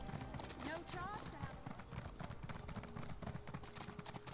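A Nowhere Horse mount in the Elder Scrolls Online video game clops along in a steady, even hoof rhythm, mixed into a dense bed of game sound.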